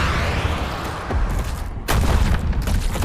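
Video game gunfire booms in dense bursts, a heavy volley breaking off midway before a second loud barrage of shots resumes, up close with no talking.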